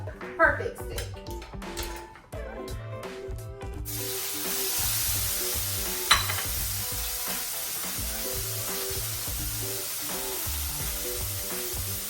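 Steak fries in a pan with a steady, hissing sizzle that runs continuously after a few utensil clinks at the start, close and moderately loud, with a voice talking over it.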